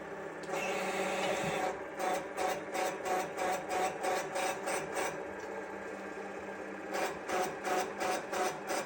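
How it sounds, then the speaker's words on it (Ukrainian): A press runs while it straightens a bent shovel, giving a steady mechanical hum with a rasping, rhythmic pulsing that repeats about twice a second. It is fairly quiet and no one talks. "Кладемо сюди, включаємо прес."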